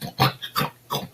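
A voice imitates a pig, giving three short grunting oinks in quick succession, close and fairly loud.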